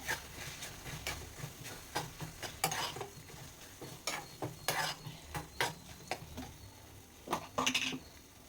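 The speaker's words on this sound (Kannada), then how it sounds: "ಇವಾಗ ಇದನ್ನು ಮಿಕ್ಸ್ ಮಾಡೋಣ ಚೆನ್ನಾಗಿ" A spoon stirs chili powder into food in a pan, giving a quiet run of irregular scraping clinks and knocks against the metal over a faint background sizzle.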